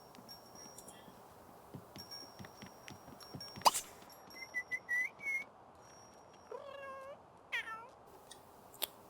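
Several short, high meows from a cartoonish cat in The Sims 3, with tinkly game-like sound effects between them, fairly quiet.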